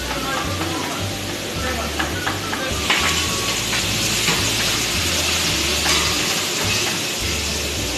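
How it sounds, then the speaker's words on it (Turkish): Meat for Turkish türlü stew sizzles as it sautés in a pot, with a steady close frying hiss, scraping stirs and a low rhythmic mechanical hum underneath. "etimizi iyice kavurdum"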